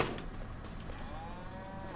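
Cows lowing in a farming video game's milk barn, a single drawn-out moo rising and falling beneath low background noise.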